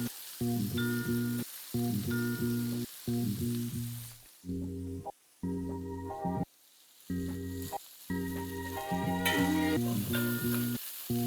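Shrimp sizzle in a hot pan, the frying sound coming in bursts separated by short pauses, with a steady humming drone beneath and brighter crackle near the end.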